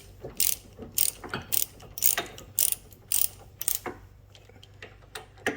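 A ratchet snugs up bolts on a 2009 Prius brake assembly, giving repeated bursts of quick clicking strokes with short pauses between them, close and fairly quiet, with no voices.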